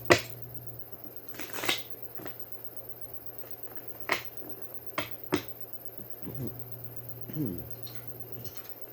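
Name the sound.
shuffling tarot cards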